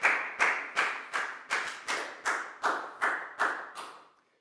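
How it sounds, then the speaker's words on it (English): A classroom of Year 4 students claps together in a steady, rhythmic pattern, with about eleven loud, evenly spaced bursts of clapping that stop cleanly at the end, with no talking. "High five and a big round of applause for Lakau, please, guys."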